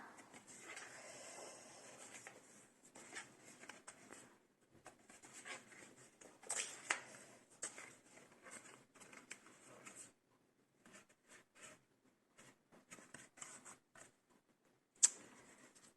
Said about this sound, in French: On va plier les plis, tous les plis, hop, même ceux des petits volets qui rentrent à l'intérieur.